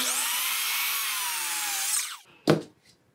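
A circular saw cuts a timber joint for a seated half-dovetail corner joint in Japanese carpentry, whining steadily at close range before winding down, followed by a single sharp knock.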